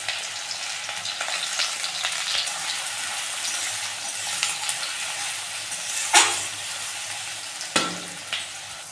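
Chopped onion and green chili fry in hot oil in a pan for poha, a steady sizzle with stirring scrapes and a couple of sudden louder hissing bursts near the end.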